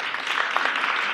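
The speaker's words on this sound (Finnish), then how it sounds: "Annetaanpas aplodit kaikille varhaisille." Brief applause from the audience at a music education seminar, a dense patter of many hands clapping together at moderate volume, with no talk.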